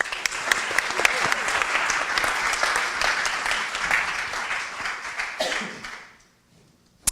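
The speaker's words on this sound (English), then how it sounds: "please give a warm round of applause to Dr." An evening audience welcomes a speaker with warm, loud applause, many hands clapping densely and close, with a few sharp individual claps, before the sound tapers off and falls silent near the end.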